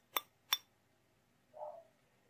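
A glass dip pen clinks twice with bright, crisp, ringing taps, close and clear in a quiet room, followed by a brief softer tone.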